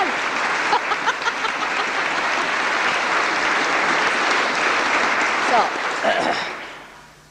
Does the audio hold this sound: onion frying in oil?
no